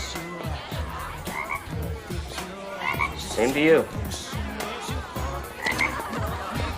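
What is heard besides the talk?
frogs croaking in the film Halloweentown 2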